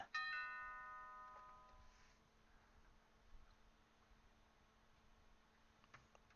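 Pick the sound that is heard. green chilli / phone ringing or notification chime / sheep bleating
phone ringing or notification chime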